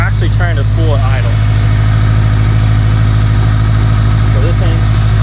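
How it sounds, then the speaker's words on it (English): Big-turbo Subaru Legacy engine idling after a cold start, a steady loud low drone with the turbo faintly trying to spool, while someone talks over it near the start and again at the end. "If you were here, you could hear the turbo actually trying to spool at idle."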